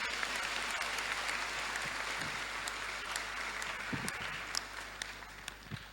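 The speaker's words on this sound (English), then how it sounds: "Another round of applause." Sustained audience applause fills a youth empowerment summit hall, a dense, steady wash of many hands clapping with occasional sharper claps standing out, heard alone without talk.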